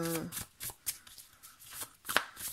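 Tarot cards are shuffled and drawn, a string of quick papery riffles and slaps up close, with a brief voice at the start.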